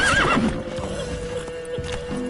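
Roach, Geralt's horse in the Witcher 3 video game, gives a short whinny at the start, then her hooves clop on under a constant ambient hum.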